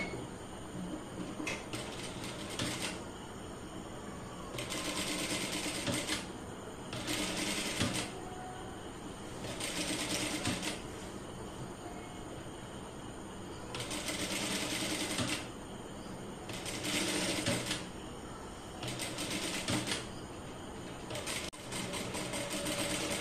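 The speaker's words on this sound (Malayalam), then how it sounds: "നെക്കിന്റെ ഇവിടെ വെച്ചിട്ട് 1/4 ഇഞ്ച് വിട്ടിട്ട് ഇതൊന്ന് സ്റ്റിച്ച് ചെയ്തെടുക്കാം" A sewing machine stitches fabric near a garment's neckline in repeated bursts of fast, buzzing runs, each lasting a second or two and separated by quieter pauses with a low background hum.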